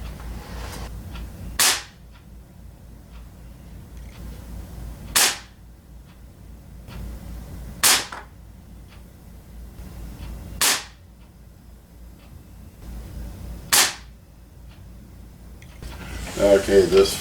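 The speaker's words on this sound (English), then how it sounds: "we'll be shooting some Crossman destroyers at 10 yards, 5 shots with the open sights on the Ruger Airhawk." Ruger Air Hawk .177 pellet rifle fired at a 10-yard target, five sharp, loud cracks spaced a few seconds apart over a quiet low background, with a brief rustle at the end.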